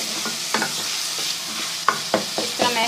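Chopped tomatoes fry in a pan for potato bhurta gravy, a steady broadband sizzle with several sharp scrapes and clacks of a spoon stirring and mashing, close and fairly loud, no voices.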